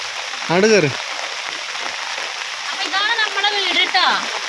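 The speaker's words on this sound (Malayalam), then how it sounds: "നല്ല മഴയാണ്" Heavy rain pours down in a steady, dense hiss that fills the whole moment, loud and close, while a voice speaks briefly over it in a couple of short bursts.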